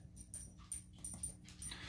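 A dog whimpers softly while chewing on something indoors, making faint, high, repeated whines over low gnawing sounds, quiet and without talk.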